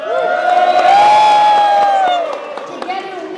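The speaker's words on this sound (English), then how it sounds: "Let's give them a round of applause." A crowd at a rally for a Diwali school holiday in New York City cheers and whoops for legislators, a loud swell of shouting and clapping that peaks then eases into scattered claps.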